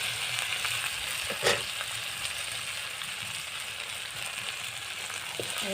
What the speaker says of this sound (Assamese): গৰম মছলাখিনি ভাজিলোঁ।